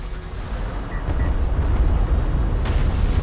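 A missile blast in the real-time strategy game Homeworld: Deserts of Kharak: a deep, rumbling boom that builds and rolls on steadily for a few seconds, loud and low-pitched, with no talk over it.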